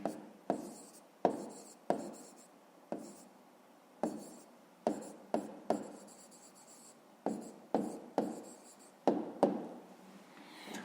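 Pen strokes writing an answer on paper during a fifth-grade maths exercise, a run of short scratchy bursts with brief pauses between them, close and fairly quiet with no talking.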